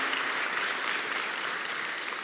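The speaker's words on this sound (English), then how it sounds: "I think it's worth a great applause" An audience at a Django software conference keynote applauds, an even wash of many hands clapping, moderately loud and continuous throughout without a break or voices on top.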